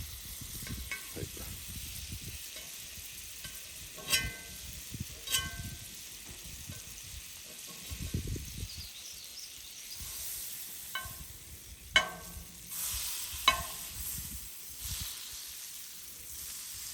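Butter sizzles softly in a hot skillet, a faint crackle broken by a few sharper clinks and knocks from the pan.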